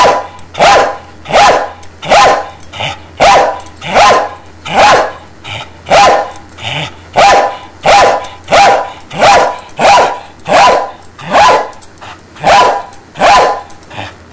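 A dog barks loudly and close by, about fourteen sharp barks in a steady, even rhythm with short gaps between them and no other sound.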